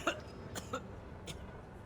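A few short, faint coughs from a video game character in Cyberpunk 2077 Phantom Liberty, spaced apart over a quiet hiss, sounding small and slightly distant.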